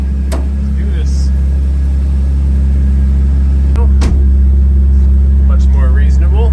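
A BMW E36 race car's engine on its first test drive gives a deep, steady low rumble throughout, close and loud, with brief faint clicks and a short voice near the end.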